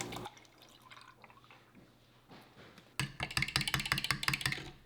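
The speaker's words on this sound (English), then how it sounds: "Beat the 3 eggs together and add 2½ cups of milk." Milk is poured into three beaten eggs for pancake batter, with soft drips at first and then a louder, gurgling pour that pulses quickly near the end.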